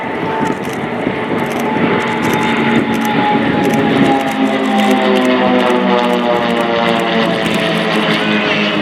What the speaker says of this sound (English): propeller aircraft